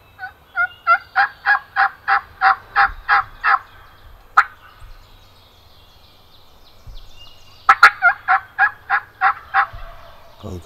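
Wild turkey gobblers in New York gobble in two loud rattling bursts of rapid repeated notes, separated by a brief quieter gap and a single sharp call, outdoors with no talking.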